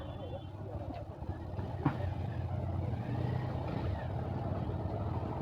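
Road traffic on a busy street at night in Diphu, Karbi Anglong, a continuous rumble of engines with a brief sharp passing sound, with someone talking over it.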